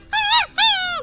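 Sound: dog whimpering

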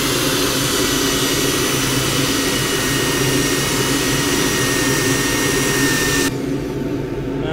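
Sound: sanding the rim of a wooden bowl on a lathe

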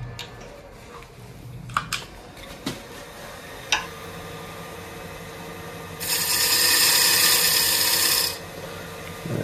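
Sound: wood lathe turning a small tenon on a spinning top

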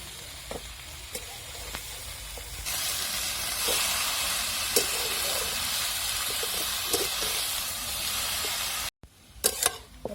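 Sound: vegetable sautéing in a pan

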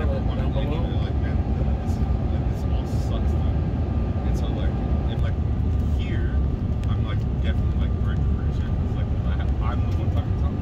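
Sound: airplane landing

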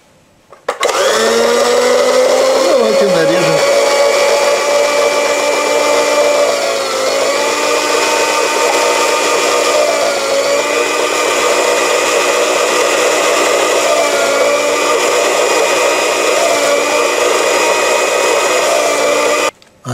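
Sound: electric chopper dicing onion

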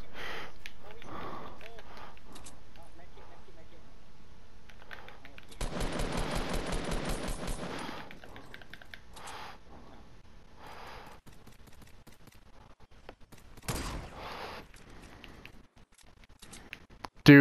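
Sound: gunshots in the video game Fortnite

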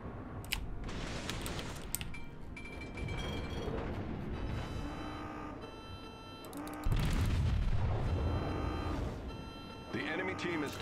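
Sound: Aoba cruiser's guns firing in the video game World of Warships

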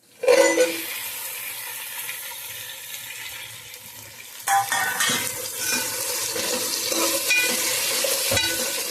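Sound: okra frying with onions and green chillies

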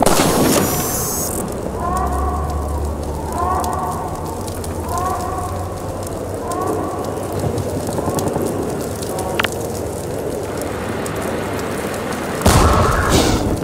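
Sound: grenade explosions in Half-Life 2 video game

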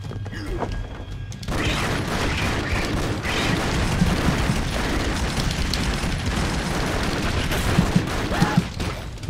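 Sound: tracer bullet gunfire from the video game Broforce

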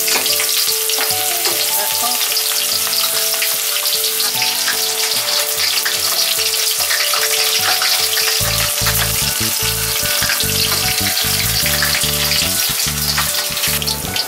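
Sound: onion frying in a pan

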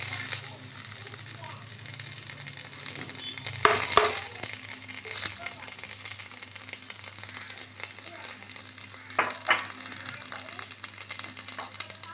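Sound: butter melting and sizzling in hot pan

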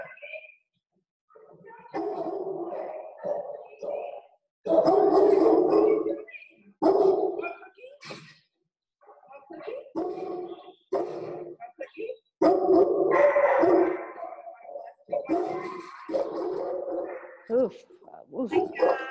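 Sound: dog barking loudly in kennel

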